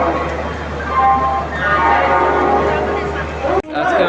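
The Howrah–Balurghat Express (13063) waits at platform 12 of Howrah station, giving off a steady, loud rumble and hum with station bustle throughout, while someone talks over it.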